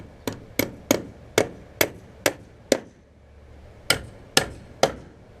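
Small special nails being driven by hammer for an outdoor kitchen build, with ten crisp, ringing blows close by. They come in a quick run of seven, a short pause, then three more.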